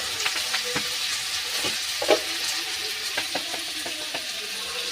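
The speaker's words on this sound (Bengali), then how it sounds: "কিন্তু আমি একসঙ্গেই ভেজে নিচ্ছি।" Vegetables sizzle and crackle in a pan, with intermittent stirring clicks and scrapes over a steady hiss, close up.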